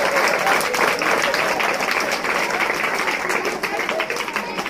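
An audience at a school science fair claps for a student in a dense, loud burst of applause that holds steady for several seconds, with voices mixed in.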